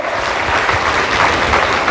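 Audience applause at a mentalist magic show in Lyon, France, a dense, steady burst of clapping from a live crowd, loud and close throughout.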